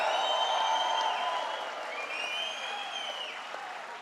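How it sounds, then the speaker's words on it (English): Audience applause at a political event on a proposal for free state college tuition, a sustained, dense round of clapping from a large crowd that gradually eases in loudness. "let's give them a round of applause"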